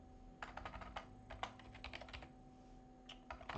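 Rapid typing on a computer keyboard, heard nearby in quick irregular bursts of clicking keystrokes with short pauses, over a quiet background hum with no voices.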